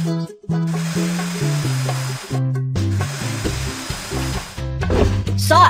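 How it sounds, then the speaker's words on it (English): A cartoon-style sawing effect as a piece of wood is cut for a wooden sheep's legs, rhythmic rasping strokes over a steady musical backing of repeated tones, with no speech. "Saw a piece of wood to make the sheep's legs."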